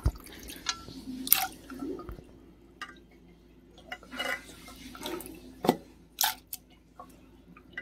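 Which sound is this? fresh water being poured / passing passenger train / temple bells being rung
fresh water being poured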